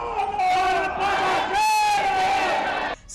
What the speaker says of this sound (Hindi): सड़कों पर उमड़ी भीड़, हाथों में तिरंगे और हर ओर बस एक ही नाम की जयकारी